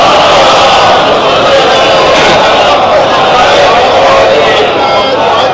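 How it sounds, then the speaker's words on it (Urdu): A congregation at a majlis chants salawat aloud together, a dense, loud wall of massed voices that sustains steadily without pause throughout. "صلوات پڑھیے بآواز بلند"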